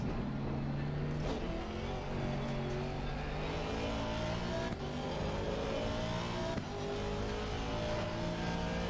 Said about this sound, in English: cars in ACC sound a bit as if you're driving with the window open rather than onboard sound